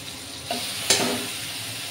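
Onion paste fries with tomatoes in a pan, giving a soft steady sizzle close by, broken by two sharp scraping stir strokes, with no voices.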